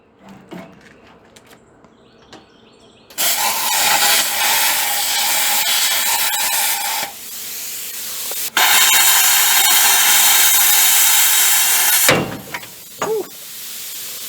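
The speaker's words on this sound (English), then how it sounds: "I'm gonna cut the shock off first, then we'll get these 4 U-bolts cut in 2" Metal being cut beneath a trailer, a shock absorber and then the U-bolts, with loud broadband grinding in two long bursts of roughly four seconds each, a short pause between them, then quieter clanks and scrapes at the end.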